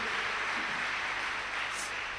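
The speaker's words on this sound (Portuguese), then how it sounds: "Podemos dar uma salva de palmas ao Senhor em nome de Jesus" Churchgoers clap for the Lord during a celebration service, a steady broadband wash of applause that fills the whole moment, dense and continuous without breaks or single distinct claps.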